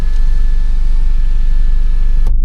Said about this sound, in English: I'm just gonna let the car warm up a little bit